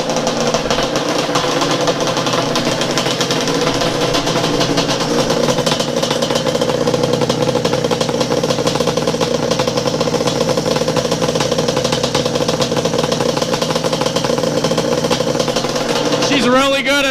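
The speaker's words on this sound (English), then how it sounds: "She's really good at idle, guys. I'm just gonna let her get a little heat in her." Drag-built Yamaha Banshee ATV engine idling close by: a loud, continuous, rough two-stroke burble with a rapid uneven knock, holding steady throughout.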